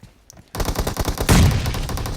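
Rapid automatic gunfire in PUBG Mobile, a dense rattling burst that starts abruptly and grows heavier with a louder volley midway, close and continuous.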